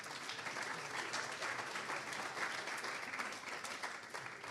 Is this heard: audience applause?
yes